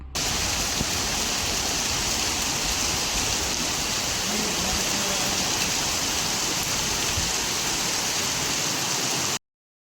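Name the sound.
heavy rain falling at night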